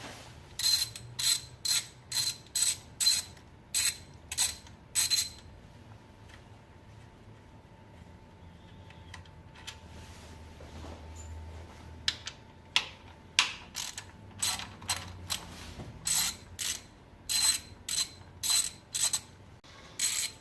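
A ratchet wrench clicks in quick bursts of rapid, bright ratcheting while valve cover bolts are loosened on a Mazda Miata, with a quiet pause in the middle before the clicking resumes, close and loud.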